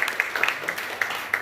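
A church congregation applauding, a thin, fairly faint spread of scattered claps in a quick irregular rhythm, heard briefly with no voices over it.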